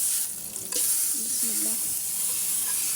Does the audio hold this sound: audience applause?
no